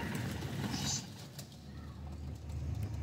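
Red-eyed pigeons of medium size coo softly at close range, low murmuring calls over faint background noise.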